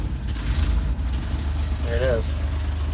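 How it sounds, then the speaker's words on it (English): A Chevy car engine runs at a steady low idle after being started with the throttle pumped and no choke, its exhaust carrying a slight leak; the rumble stays continuous throughout while a person speaks briefly over it. "pump the throttle a couple times and hit the starter. I don't think I even need the choke with the Chevy."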